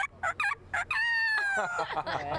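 A voice imitates a rooster crowing, one long rising-and-falling cry after a few short vocal bursts, close and loud.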